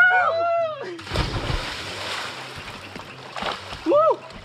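A person jumps into a cold lake and hits the water with a broad splash, followed by sloshing and churning water, while children and other swimmers call out and talk nearby.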